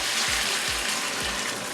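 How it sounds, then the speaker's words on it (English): A short rush of water pouring steadily into a pot of frying meat and onions for Nigerian efo riro soup, with a few low sloshing thumps. "So now you add your water"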